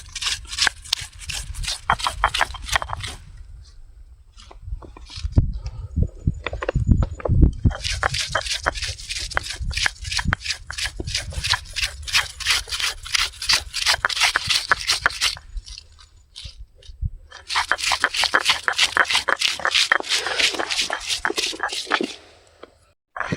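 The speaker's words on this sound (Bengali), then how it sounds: "এবার আস্তে আস্তে বানলি, প্রেসার দিলি, বেটে বাটা হয়ে যাবে।" Soaked chillies are ground into paste on a grinding stone, heard as long bursts of rhythmic scraping and rubbing strokes, near and fairly loud, with a brief pause midway and voices talking at moments.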